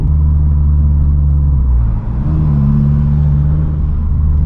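A Vauxhall Corsa rumbles loudly from inside the cabin as it accelerates to overtake, engine note rising and shifting pitch with a brief dip midway as it changes gear.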